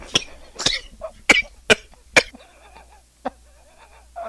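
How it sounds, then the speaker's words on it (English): One person coughs hard in a run of five or six loud, harsh, close bursts spaced about half a second apart, then a quieter cough and a faint throat sound after a pause. "I was just coughing so badly."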